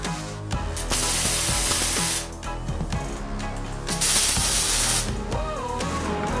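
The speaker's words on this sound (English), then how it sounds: "For now, I'm just tack welding it in." A tube roof bar being tack welded into a Mazda Miata roll cage: several short, loud hissing, crackling welding bursts separated by brief pauses, with a steady background hum and no talk.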